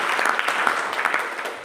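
Audience applause breaks out at a business meeting and training session, a dense, steady clatter of many hands clapping throughout, with a louder burst right at the end.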